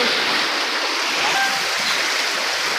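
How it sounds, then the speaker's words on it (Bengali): A strong current of floodwater rushes past in a steady, broadband roar like a swollen stream, close and continuous, with no clear voices over it. "প্রচুর জলের স্রোত।"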